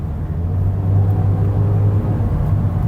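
2026 Hyundai Venue GLS, a light crossover with 123 horsepower, accelerating in normal mode: a steady low engine rumble and road noise, fairly close, with no talking.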